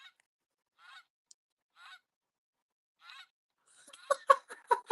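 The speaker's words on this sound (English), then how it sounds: "this is a Wild Republic Canadian Goose, Canada Goose plush" A Wild Republic Canada goose plush toy gives a string of quick, nasal honks near the end, following a few faint, spaced rustles and squeaks in an otherwise quiet room.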